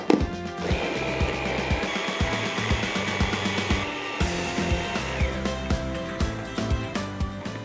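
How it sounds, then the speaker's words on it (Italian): A blender whirs steadily as it purées gazpacho made with lime, basil and a pinch of salt. The loud, continuous motor drone carries faint rhythmic knocks as the contents churn. "E ora si frulla."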